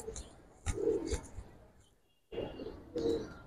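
Giribaz pigeons, a pair of khaki birds, cooing in short soft bursts separated by pauses, close by with low murmuring between calls.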